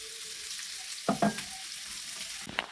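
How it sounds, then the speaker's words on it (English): Onions frying in oil, a soft steady sizzle with a couple of sharper clatters and stirring bursts near the pan, no talk. "Firstly, I'll add my oil, and then in goes my onions."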